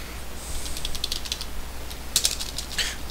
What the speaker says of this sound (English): let me just type this in here